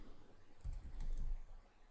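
Short burst of keyboard typing, a few quick clustered keystrokes close by, with no talking.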